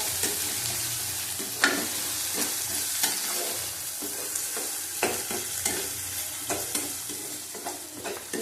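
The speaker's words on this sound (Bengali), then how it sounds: "লাল লাল করে ভাজা হয়ে গেছে পেঁয়াজটা।" Onion being fried in a pan for a Bengali prawn-in-milk curry with broken chillies, a steady close sizzle broken by repeated scraping stirs of the spoon against the pan.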